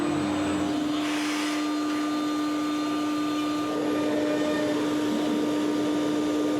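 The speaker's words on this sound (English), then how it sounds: "This is cutting in those 3/4 inch bolt holes. It's just using a 3/8 flat end mill to do it." A CNC mill with a 3/8 inch flat end mill cuts 3/4 inch bolt holes, making a loud, continuous machining whine with a steady tonal hum.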